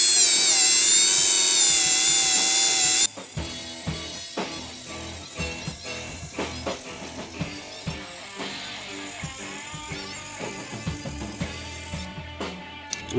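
An old Dremel rotary tool buffing and polishing, first a steady high whine at full speed, then an uneven run of short grinding bursts and scrapes as the speed falters.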